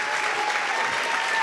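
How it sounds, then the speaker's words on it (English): An audience at a live real estate masterclass event claps steadily, a dense wash of applause from a sizable crowd, loud and sustained throughout. "can we give a round of applause for Dave Stewart and his team with these Stewart Productions?"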